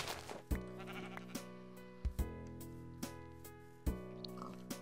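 Sheep in the Minecraft video game bleat repeatedly, several sharp bleats spaced irregularly over a backdrop of game music, with no talking.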